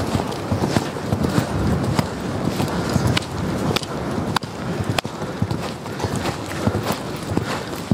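A horse's hooves clip-clop on the ground during a riding lesson, a fairly quick, uneven series of dull thuds, moderately close against a steady background rumble.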